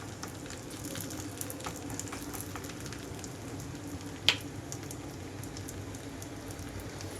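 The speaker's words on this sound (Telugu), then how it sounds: "లో ఫ్లేమ్లో ఉంచి మాత్రమే వేయించుకోవాలి" Dough coated with sesame seeds frying in a pan over a low flame, giving a steady, quiet sizzle with one brief sharp pop partway through.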